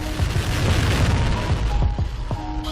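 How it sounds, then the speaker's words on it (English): Delta II rocket carrying the SMAP satellite lifting off, its engines giving a loud, continuous, deep roar that fills the whole stretch without a break. "Main engines start and lift off of the Delta II rocket with SMAP"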